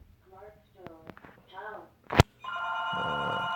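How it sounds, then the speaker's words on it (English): A telephone starts ringing with a steady electronic trill after game sounds and a few sharp clicks, loud and sustained near the end. "That was the phone"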